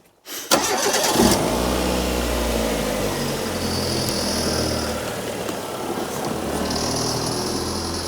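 A Proton Impian engine turns over and catches, then runs steadily at a low rumble, close by, with no talking.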